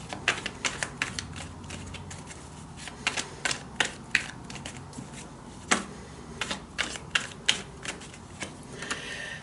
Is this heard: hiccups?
no